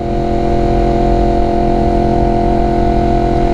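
A motorcycle engine held at a steady, loud, close drone while the clutch is slipped, with a dense rumble and no clear rise or fall in pitch.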